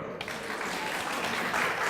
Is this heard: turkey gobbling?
no